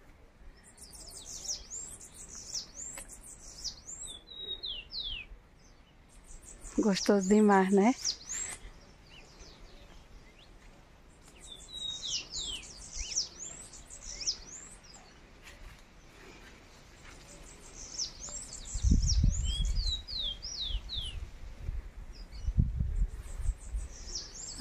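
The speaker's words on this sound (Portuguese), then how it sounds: "só captando a cantiga dos pássaros" Birds chirp and trill repeatedly in the background of a rural farm setting, with a brief louder call in the middle, while a person speaks briefly and low thumps occur near the end.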